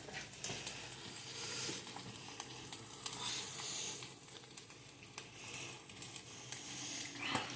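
Steak sizzles and fries in butter in a pan with a steady, close crackle and soft scraping as it is moved around, and no voices.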